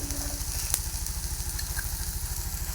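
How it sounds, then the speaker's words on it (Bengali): Chopped banana flower fries in an oiled pan with a steady, even sizzle, set over a low rhythmic throbbing hum that runs throughout. "ভালো করে ভেজে নিলাম অনেকক্ষণ"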